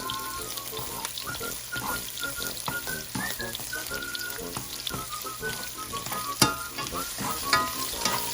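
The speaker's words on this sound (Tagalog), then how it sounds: "we need to add the 3 or 4 cloves of small size garlic chopped" Chopped garlic, three or four small cloves, sizzling and crackling in a frying pan with cooked onion, a steady close fry with occasional stirring clatters and no talking.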